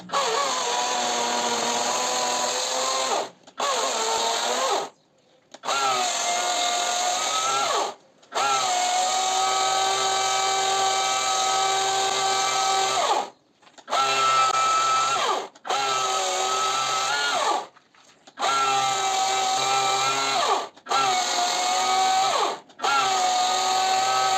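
A power tool cuts into wood while a stingless bee colony is removed. Loud, close, sustained whining bursts run several seconds each, broken by short pauses, about ten runs in all.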